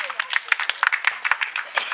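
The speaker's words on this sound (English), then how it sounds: "Clap for them." A classroom audience claps for spelling bee contestants who have qualified for the next round, a quick scattered burst of hand claps from a small group, close and uneven, lasting a couple of seconds.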